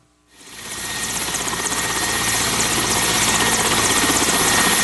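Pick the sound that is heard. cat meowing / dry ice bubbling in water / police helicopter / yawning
police helicopter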